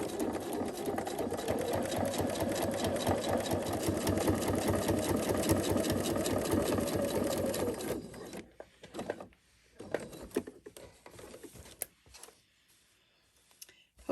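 A sewing machine stitches quilt block seams in a fast, steady, close mechanical whir for about eight seconds, then stops, leaving scattered handling knocks and rustles of fabric.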